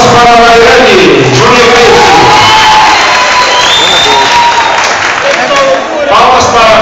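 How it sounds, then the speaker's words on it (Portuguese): Cosplay contest crowd at a Star Wars convention cheering and whooping in a continuous loud roar, with applause mixed in, while voices shout over it. "Palmas para a Laiane."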